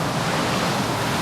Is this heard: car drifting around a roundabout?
no